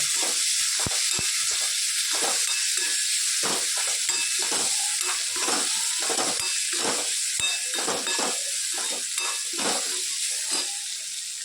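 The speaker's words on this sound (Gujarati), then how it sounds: "ટામેટાં, લીલા મરચાં, સરસ શેકી લઈએ" Onion, tomatoes and green chillies roast in a pan with a strong, continuous sizzle, punctuated by repeated rhythmic scraping and stirring strokes close by.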